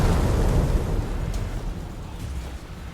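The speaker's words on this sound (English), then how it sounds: "I just like to wiggle a hammer around and do a massive AoE explosion from it" A massive area-of-effect explosion unleashed from a swung hammer in Code Vein, a loud, dense low rumble that starts at full force and slowly trails off over a few seconds.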